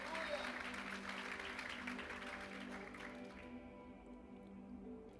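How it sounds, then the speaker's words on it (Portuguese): A congregation in church claps together, a soft, steady wash of applause over low background hum that thins out and quiets near the end. "Se quiser dar força para o nosso irmão e aplaude junto."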